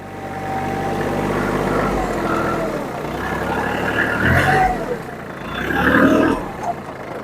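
A tractor with a blade cuts swales through heavy clay, its engine droning loudly and steadily throughout, with a clunky, labouring strain rising near the middle and end.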